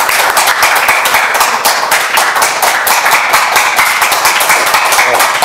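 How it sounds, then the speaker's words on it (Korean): Audience clapping for a guest speaker at a lecture forum at Seoul National University, dense rapid hand claps from a close crowd, steady and loud throughout without letting up. "큰 박수 부탁드립니다."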